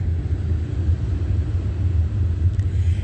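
A deep, steady low rumble hums continuously at a distance, a train rolling along tracks on a back street in Emporia, with no voices or other distinct sounds.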